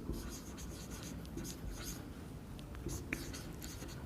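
Marker or chalk writing on a board during a fluid mechanics lecture on a water jet striking a moving curved plate, heard as soft continuous scratchy strokes with a low room hum beneath.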